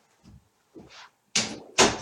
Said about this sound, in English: let me shut the door here